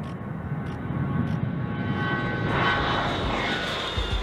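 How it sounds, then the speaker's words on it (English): An A-10 Thunderbolt II Warthog jet roars with a broad engine rumble that swells louder toward the end, heard alone without talk. "the A-10 Thunderbolt II, also known as the Warthog, or the Flying Gun, is one of the greatest marvels of American engineering"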